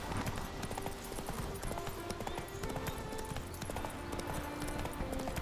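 Steady rhythmic clip-clop of the horse Roach's hooves as it is ridden in The Witcher 3: Wild Hunt, continuous and moderately loud, blended with game ambience and music.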